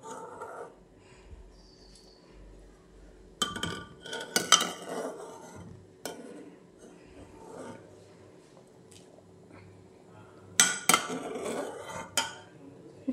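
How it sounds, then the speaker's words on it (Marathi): A metal spoon clinks and scrapes against a pot while skimming foam off cooking dal, with irregular close clatters and clinks separated by quieter stretches. "त्याआधी आपण डाळीवर आलेला हा सगळा फेस काढून घेऊया"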